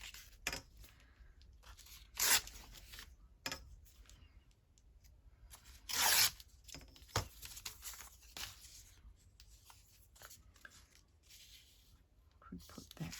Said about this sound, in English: might just use this and tear it down.